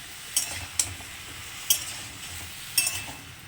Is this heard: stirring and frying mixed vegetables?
yes